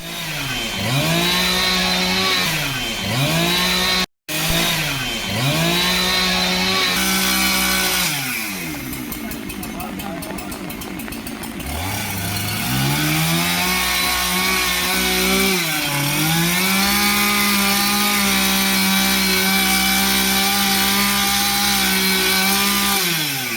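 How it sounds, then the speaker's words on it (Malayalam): A fire crew's chainsaw cuts a tree that fell across a road in Shoranur during heavy wind and rain. The loud, close engine revs and dips repeatedly as the blade bites the wood, with one brief cutoff and no talk. "ഫയർഫോഴ്സ് മരം മുറിച്ചു മാറ്റിയാണ് ഗതാഗതം പുനഃസ്ഥാപിച്ചത്"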